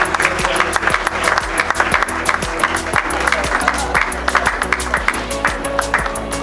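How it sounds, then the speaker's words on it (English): An audience at an industry technical lecture held at a beach resort gives a big round of applause for the event's title sponsors, with dense, steady clapping that fills the room from start to finish and no talk over it. "I think they require a huge round of applause being our title sponsors for this event."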